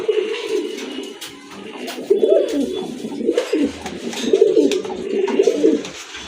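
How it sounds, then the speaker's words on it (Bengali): Pigeons coo close by in repeated soft, throaty rolling phrases, several overlapping calls with short pauses between them. "আরেক জোড়া কবুতর দেখতে পাচ্ছেন এখানে"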